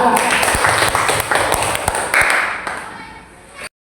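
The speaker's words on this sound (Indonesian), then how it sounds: "kita kasih aplaus dulu ya untuk kelompok 2" A classroom of students gives a group a round of applause: dense, overlapping hand claps, close and lively, fading out after a few seconds.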